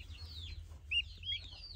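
Turkey hen clucks softly among her chicks, with thin high peeps and a few short calls close by over a low, quiet background hum.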